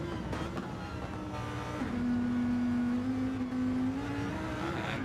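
A Lamborghini Huracan GT race car in a racing video game holds a steady, loud engine drone with a sustained high note, like a car cruising at speed on the Interlagos circuit.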